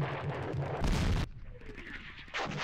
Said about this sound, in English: we got incoming Japanese artillery